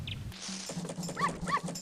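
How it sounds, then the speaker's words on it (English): Dogs in the Zelda: Majora's Mask video game give short yips and whimpering barks, a few quick bursts close up over a game background tone, with no talking. "So the dogs like Link."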